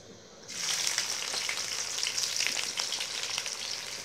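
Chopped onions sizzle and fry in hot oil in a pan as the base for rajma, a steady, close, broadband crackle that begins suddenly when they go in and carries on without a break.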